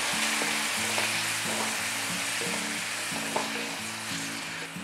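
Chopped onions sizzling and frying in a pan while egg thokku is being cooked, a steady bright hiss with repeated stirring clatters and scrapes, close and alone.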